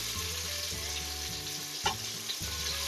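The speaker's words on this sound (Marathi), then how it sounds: "हिरव्या मसाल्याचा कच्चा वास जाईपर्यंत आपल्याला हा तेलावर छान परतवून द्यायचा आहे" Green masala sautés in hot oil in a home kitchen, a steady close sizzle and crackle broken by a few stirring scrapes and spoon knocks, with no talk.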